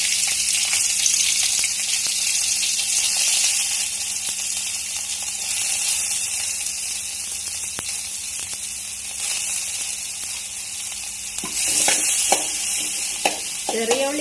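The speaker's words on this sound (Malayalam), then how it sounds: "ചെറിയ ഉള്ളി ഇട്ട് കൊടുക്കാൻ പോവാം." Small onions sizzle steadily in hot coconut oil in a pan for oakleaf fern soup, a close, continuous frying hiss with a few stirring scrapes near the end.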